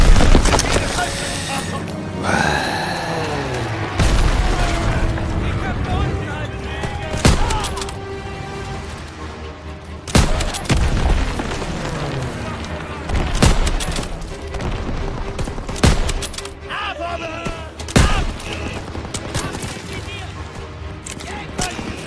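Battle in Call of Duty WW2 with repeated grenade explosions and bursts of gunfire, loud booms and rattling shots coming in waves amid in-game voices shouting.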